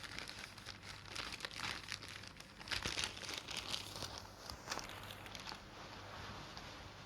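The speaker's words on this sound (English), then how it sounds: "You may check the contents of the plastic bag by the door." A plastic bag crinkles and rustles in the game Love and Deepspace, with steady close crackling texture running throughout and a few sharper crunches partway through.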